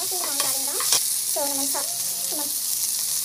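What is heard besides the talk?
sautéing onions and green chilies in a pan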